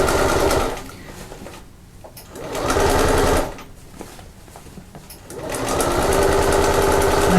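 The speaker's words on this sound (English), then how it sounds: "So I'm just going over those first few stitches." A sewing machine stitches over the first few stitches of bag seams in loud, rapid whirring bursts, stopping and restarting three times with short quiet gaps between runs.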